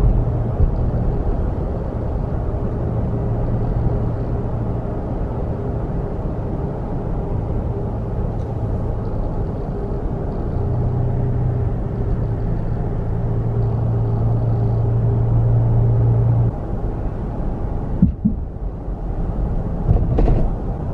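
A 2020 Toyota Tacoma truck rolls over road bumps, its steady low cabin rumble and road noise running throughout, with a couple of sharp thumps from the bumps near the end.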